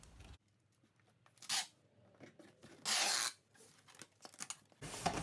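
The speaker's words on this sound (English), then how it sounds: "I'll do the top seal tape the same way I did on the bottom of the box." Packing tape pulled from the roll to seal the top of a cardboard shipping box holding a DVD-VCR combo player: quiet, close, with several short ripping screeches and soft rustling between them.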